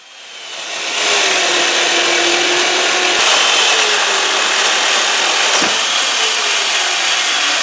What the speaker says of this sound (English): I used the rails to cut both logs down the middle first.